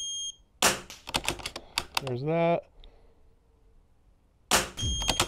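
Short, high electronic beeps from a shooting timer at an NRL22 precision rifle match sound once at the start and again near the end, with someone talking and handling gear in between.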